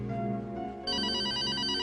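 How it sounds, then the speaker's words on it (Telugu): A telephone rings in a short electronic burst, a sustained bright tone that jumps louder and higher partway through, heard alone without speech. "I think it's your phone."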